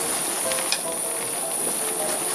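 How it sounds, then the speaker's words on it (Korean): Washed young radish greens go into salted water at a rolling boil, heard as a steady close hiss and bubbling with faint clinks and a thin high whine above it. "씻어놓은 열무를 넣어요."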